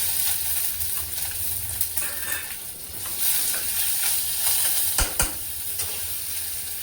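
Garlic and curry leaves sizzle and crackle steadily in hot oil in a home kitchen pan, a continuous loud frying hiss with a couple of sharp pops near the end and no talking.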